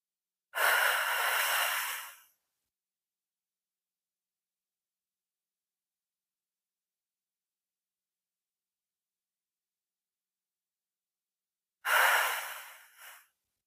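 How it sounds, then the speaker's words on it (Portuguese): Two slow, deep breaths are taken for calming with eyes closed. Each is a long, airy, close-up breath of about two seconds, separated by roughly ten seconds of silence. "Eu vou respirar fundo, fechar os olhos e respirar."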